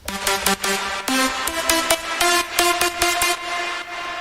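The Festival Season synth lead plays on its own in a FL Studio big room track, with bright, choppy stabs in a quick rhythmic pattern, loud and close.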